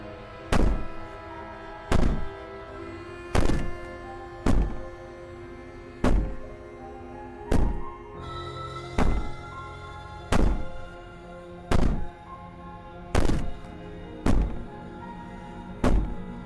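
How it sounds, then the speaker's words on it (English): Heavy bangs on a door in the video game Slay the Princess, about a dozen loud thuds at a steady pace of roughly one every second or so, each hit sharp and booming over a low droning musical background. "Bang on the door all you want."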